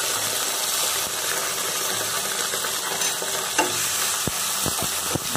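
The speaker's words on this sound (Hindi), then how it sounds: "फ्राई कर लेंगे।" Chopped deseeded tomatoes and ginger-chili paste fry for dal in a hot pan, a steady broadband sizzle running throughout with a few sharp stirring clinks near the end, close and fairly loud, no voices.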